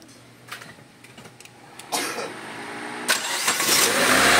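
A Ford Lynx with a misfiring, smoky, hard-starting engine being started: several short cranking bursts, then the engine catches and settles into a loud, rough, steady idle close by.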